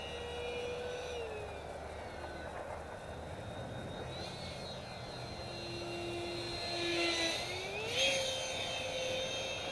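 An electric ducted fan on an FRCFoamies SU37 foam RC jet whines overhead at a distance, its pitch sliding down and then back up as the throttle changes, fairly faint over outdoor background.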